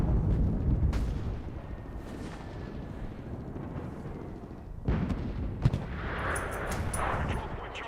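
Gunfire and heavy booms sound around a control point in the shooter Enlisted. Sharp shots and deep blasts come at irregular intervals over a constant rumbling battle backdrop, some near and others distant.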